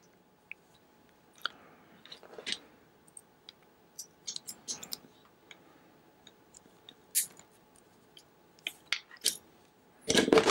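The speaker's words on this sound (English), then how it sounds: "And then I'll stick it in my traditional crimper." A traditional crimper works a pass-through Ethernet connector, giving quiet, scattered clicks and small snaps at uneven intervals against near silence. A louder, rougher burst of handling noise comes at the very end.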